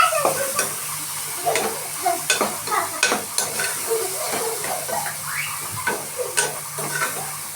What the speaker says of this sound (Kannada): ಇದೊಂಚೂರು ನೀಟಾಗಿ ಫ್ರೈ ಆಗಲಿ.